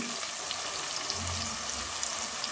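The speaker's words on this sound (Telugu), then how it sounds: "ఇప్పుడు ఇవన్నీ కొంచెం ద్వారగా వేయించుకుంటే సరిపోతుంది" Sliced onions and green chillies fry for a Mangalore-style mackerel curry, giving a gentle continuous sizzle with a faint low clatter, close up and with no one talking.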